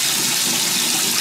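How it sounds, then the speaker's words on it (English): Lukewarm tap water running steadily into a bathroom sink, a continuous broadband hiss and splash that stays close and even throughout with no one talking. "So that is the water that you're hearing."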